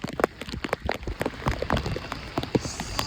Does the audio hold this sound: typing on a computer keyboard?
no